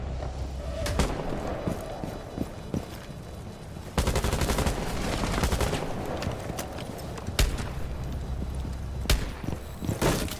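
Bursts of pistol fire ring out in a video game, sharp close shots in quick irregular volleys with louder cracks around the middle, over a busy rumbling game background.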